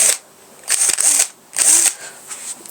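A small power tool fitted with a sanding ball whirs in short bursts with pauses between, a high buzzing grind close by.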